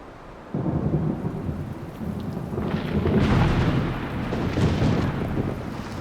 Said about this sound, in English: Right now, we're just waiting out the storm here.